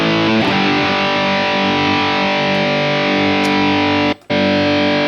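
Distorted electric guitar played through a Mooer GE1000 multi-effects unit on a JCM 800 amp patch, with more upper mid-range: a loud, saturated sustained chord rings steadily for about four seconds, then cuts out briefly before sounding again.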